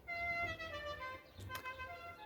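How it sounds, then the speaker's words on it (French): A car horn sounds outside below a building, a steady sustained honk with a brief louder blast partway through, moderately loud over low background rumble. "Oh là là, avec le klaxon."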